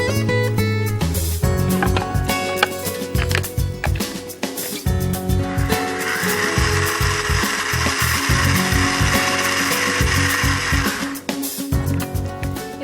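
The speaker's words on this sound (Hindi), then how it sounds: "इसे अब हम मिक्सी में पीसेंगे" A kitchen mixer grinder whirs loudly as it grinds cooled cooked ingredients for qaliya, first rattling and churning with uneven bursts, then settling into a sustained high whine before slowing.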